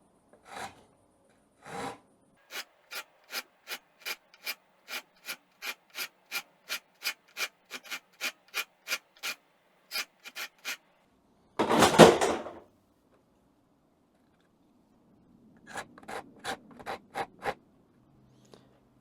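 A Swiss-made rasp files a steel Saiga magazine in repeated single-direction strokes, each a short crisp scrape in a steady rhythm, with a louder rough burst midway and a few more strokes after a pause, close up and alone.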